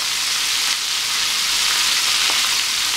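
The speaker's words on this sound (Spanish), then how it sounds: "Así los dejamos hasta que ya deje de burbujear." Squid rings deep-frying in hot oil, a loud, steady hissing sizzle with dense crackling bubbles, close and continuous without pause.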